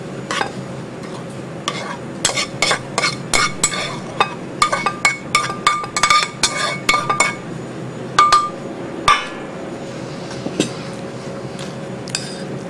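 Egg and chopped vegetables are stirred into a veal stuffing for quail, a spoon clinking and scraping against a glass or metal bowl in irregular close knocks, with no talking.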